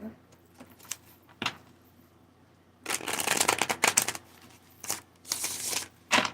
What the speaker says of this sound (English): I should have went with that shuffle, for real, because now the cards don't want to get right